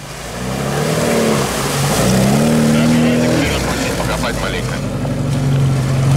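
Moskvich car fitted with a GMO engine driving off-road through ruts, its engine droning and revving up steadily across the clip, with people talking over it.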